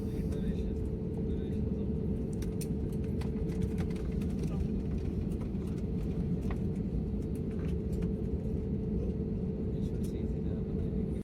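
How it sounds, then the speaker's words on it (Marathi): An airliner from Bhubaneswar, just landed at Hyderabad airport at night, taxis along the runway; a continuous low cabin rumble runs throughout, with faint background sounds above it. "आपलं विमान हैदराबाद एअरपोर्टला लँड झालेलं आहे"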